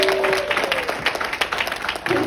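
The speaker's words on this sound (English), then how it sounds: "Give Casey a huge round of applause." An audience at a Seattle summit applauding a speaker named Casey, a dense, steady round of clapping from a crowd, fairly loud, with some talk faintly underneath.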